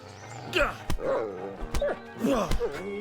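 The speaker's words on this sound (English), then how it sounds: "it's an angry puppy!" An angry dog in the medieval game Kingdom Come: Deliverance snarls and barks in sharp, close bursts, several yips and growls spaced across the moment over a low game backdrop.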